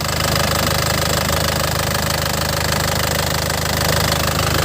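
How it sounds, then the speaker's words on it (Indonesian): A warmed-up engine of a 2010 Isuzu Panther Grand Touring runs at idle, a steady, loud mechanical clatter with a rapid even knock and constant low drone, no one talking. "Mesin sudah panas tanpa ngobos."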